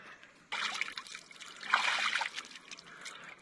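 A small waterfall in the Sapa rice terraces of Vietnam, its water trickling and splashing steadily and fairly close by after a quiet opening, swelling briefly midway, with no talk over it.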